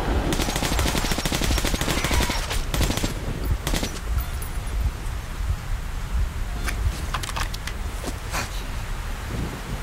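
Loud, rapid automatic gunfire in Metro: Last Light, fired on a bridge; dense bursts open the clip, then thin into scattered shots over a rain-like hiss.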